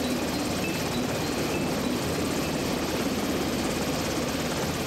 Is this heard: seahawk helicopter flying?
yes